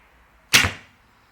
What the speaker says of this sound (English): but we'll shoot into the foam.